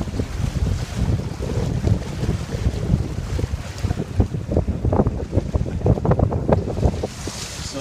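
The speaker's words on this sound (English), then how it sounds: "Under sail." A sailboat under sail on Lake George, with loud gusty wind buffeting the microphone and water slapping against the hull in a continuous rushing roar.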